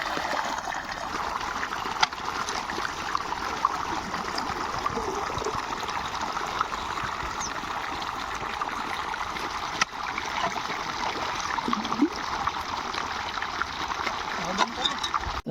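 Irrigation water flows into a farm field in a steady, close rushing trickle and splash that holds evenly throughout, with faint voices now and then beneath it.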